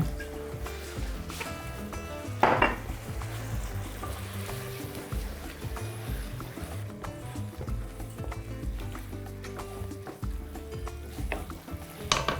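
White semi-sweet wine poured into a pan of sizzling vegetable pilaf, a steady frying hiss with stirring and clinks of utensils against the pot, moderately quiet throughout.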